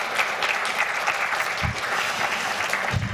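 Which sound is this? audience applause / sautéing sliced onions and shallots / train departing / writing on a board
audience applause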